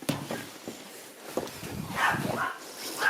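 A dog barks a few times on a winter farm in Finland, short muffled barks at a middle distance amid faint outdoor background noise.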